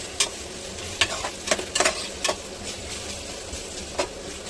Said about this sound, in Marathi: कांदा बघा छान फ्राय होतो आपला